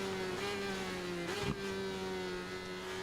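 Motorcycle exhaust note in the racing game Ride 4, a steady droning hum held at constant revs, with a brief low burst near the middle before the tone settles back.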